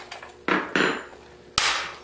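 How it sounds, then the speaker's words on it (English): Plastic air filter cover caps snap off a Husqvarna 440 chainsaw with a tool: three sharp clicks, each followed by a brief rustling scrape, close and distinct with no talk. "Take your chainsaw tool here, reach in, and you pop your three little caps off."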